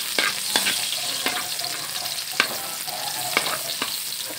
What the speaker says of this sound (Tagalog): Mainit na, ilagay na natin yung ating rekado, sibuyas, bawang. Isangkot siya lang natin